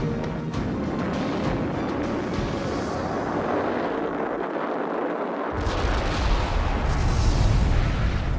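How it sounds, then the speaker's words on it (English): The Vanguard rocket explodes at launch in a long, loud roaring rumble that surges, dips for a moment, then swells again, and no voices are heard. "When Vanguard exploded"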